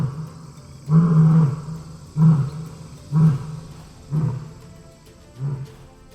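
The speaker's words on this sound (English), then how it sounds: "Lions have the loudest roar of all the big cats, and it may be heard from as far as 5 miles away." A lion at a zoo gives a series of five deep, loud roars, each one swelling and then trailing off, spaced about a second apart and fading slightly toward the end.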